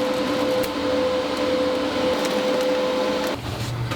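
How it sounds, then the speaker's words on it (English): TIG welder laying small tacks to fix a little holder onto a shop bench: a steady buzzing hiss with a faint tonal hum runs for about three seconds, then cuts off abruptly. "Now I just need to permanently weld that little holder thing back there onto the"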